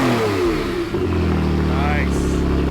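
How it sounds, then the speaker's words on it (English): A Porsche Carrera 991.2 fitted with a VR Performance exhaust revs up close, the engine note rising and falling in a couple of throttle blips over a deep sustained drone. "Let's hear some revs."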